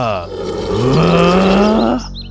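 A low, drawn-out growl rising and holding for about two seconds, close and fairly loud, a voice imitating a lion.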